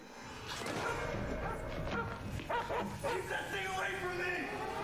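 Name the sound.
dog barking and whimpering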